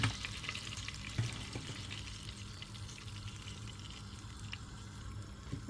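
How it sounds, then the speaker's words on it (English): Palm oil warming in a dry cooking pot gives a steady, soft broadband hiss with faint crackle, continuous and low-level throughout with no talking. "The pot is dry, then we add our palm oil."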